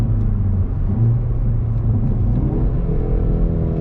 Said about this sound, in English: That's our rev matching.